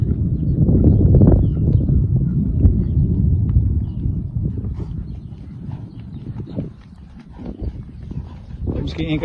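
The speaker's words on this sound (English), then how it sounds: "Now we do canter and then back to the trot." Rhythmic hoofbeats of a horse cantering on soft ground during gymnastic pole work training, with a person speaking over the steady three-beat gait.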